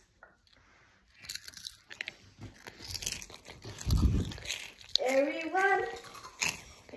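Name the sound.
eating Kims wavy potato chips, crunching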